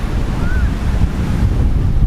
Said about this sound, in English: The sea is beautiful and warm